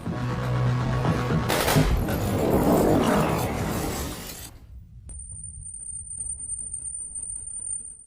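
Gunfire and shattering crash out in an action film battle scene with soldiers firing, a dense loud burst for about four seconds that then cuts to near silence with a thin steady high tone.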